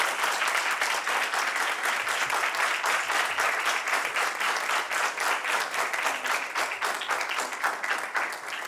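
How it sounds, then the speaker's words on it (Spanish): Sustained, loud applause from a conference audience, steady dense clapping filling the whole stretch without pause and no talk over it. "Un aplauso para los 17 que estuvieron acá."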